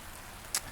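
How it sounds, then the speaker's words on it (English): Steady soft hiss of rain falling in the video game Space Engineers, even and continuous, with one brief sharp spatter partway through. "So we're just hanging out, watching it rain."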